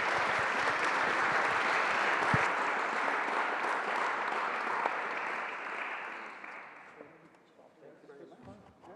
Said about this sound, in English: And another applause.